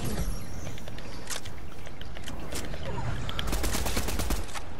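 Rapid bursts of gunfire in the Fortnite battle royale game, a dense, continuous fusillade of overlapping shots with louder volleys near the end, with no voices over it.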